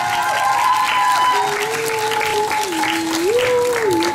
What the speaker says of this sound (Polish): Wielkie brawa dla dziewczyn!